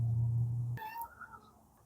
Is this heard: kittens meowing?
yes